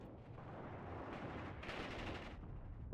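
Mortar and gunfire from a Mius Front battle roll together in a dense, rumbling wash, muffled and distant-sounding, with a sharper burst of fire partway through and no voices.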